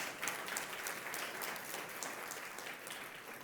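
An audience at a food policy summit applauds warmly, a dense, even wash of clapping from many hands that holds steady at moderate distance throughout.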